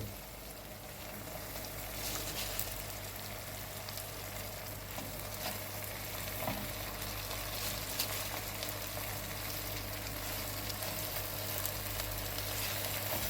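Steady sizzling of cabbage and onions frying slowly in a pan, a continuous crackling hiss with occasional stirring scrapes, close and fairly even throughout, no voices.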